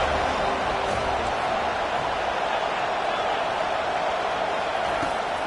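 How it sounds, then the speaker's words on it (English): A home crowd at a football game roars in a dense, continuous wash of cheering that fills the whole stretch at a steady, loud level, with no voice standing out from the mass. "how nice is it to have the home crowd going absolutely bananas?"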